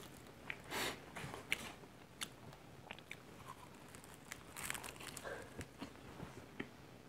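Bread from a well-known Gwangju bakery being bitten and chewed close up, with soft crunching bites and quiet chewing spread through a few seconds of near silence.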